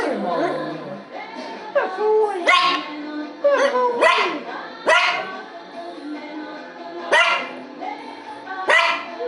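Dog whimpering and yipping during fireworks, with high rising whines and short sharp barks coming in repeated close bursts separated by brief pauses.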